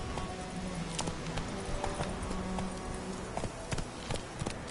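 Roach, a horse in The Witcher 3, gallops with a rapid, steady clip-clop of hooves at moderate distance, the beat rolling evenly under a low ambient bed.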